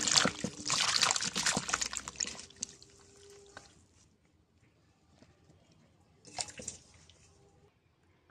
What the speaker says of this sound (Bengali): কলাটা ধুয়ে নিচ্ছি।